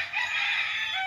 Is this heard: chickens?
yes